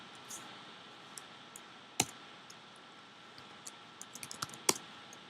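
Computer keyboard being typed on at a Linux shell prompt: a few sparse, sharp keystrokes, then a quick cluster of clicks near the end, close and clear over a quiet background, with no talking.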